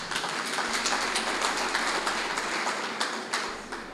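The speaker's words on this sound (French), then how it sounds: "que je vous demanderai également d'applaudir" An audience at a formal university ceremony applauds, a steady wash of many hands clapping at moderate distance that holds for several seconds with occasional sharper individual claps.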